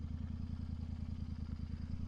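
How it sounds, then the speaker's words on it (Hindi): A motorcycle being parked, its engine idling close by with a steady low, throbbing rumble that holds unchanged throughout, with no voices over it. "बाइक यहाँ खड़ी करते हैं।"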